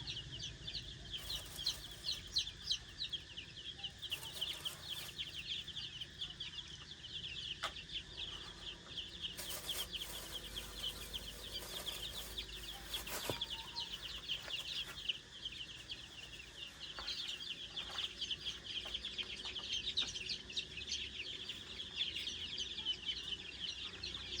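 Chickens cluck steadily on a rural Thai homestead, a continuous moderate flock chatter with occasional sharper calls and no talking.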